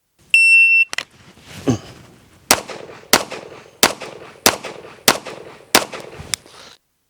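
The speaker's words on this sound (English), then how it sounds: "Six shots." Pistol shots in a USPSA shooting drill, opening with a shot-timer beep, then a loud sharp report and seven more evenly spaced cracks at roughly half-second intervals, close and outdoors.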